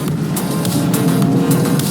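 Ferrari SUV engine revving hard toward its high rev limit, a loud, close, sustained howl with a strong low-mid growl and steady pulsing texture, heard alone without talk.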